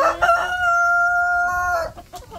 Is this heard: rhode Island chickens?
yes